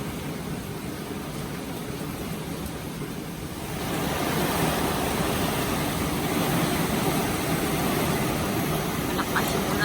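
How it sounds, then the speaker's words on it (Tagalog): Tropical Storm Fred lashes a spot near a pool with strong wind and rain, a broad, constant roar that swells noticeably louder partway through and keeps going without a break. "Malakas yung ulan"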